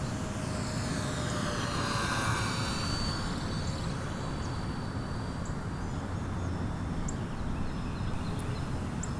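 An E-Flite EC-1500 Twin, a 1.5 m twin-motor electric RC airplane, flies overhead, its steady whine and drone shifting in pitch as it passes, continuous under constant background hiss.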